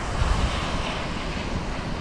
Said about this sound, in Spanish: Lluvia cayendo.